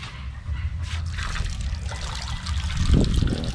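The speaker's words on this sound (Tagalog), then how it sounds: "Simulan nating lagyan ng tubig." Water trickles and pours steadily into a newly finished duck bathing pool, a continuous close-up splashing stream with a heavier gush near the end.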